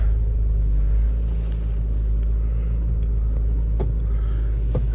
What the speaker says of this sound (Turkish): Şimdi arabayı çalıştırdım.